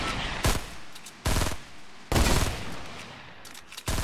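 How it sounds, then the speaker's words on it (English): Distant gunfire in a Fortnite match: several separate bursts of shots spaced a second or so apart, moderately loud with a thin background hum between them and no talking. "I'm just wasting bullets at this point here, from this distance."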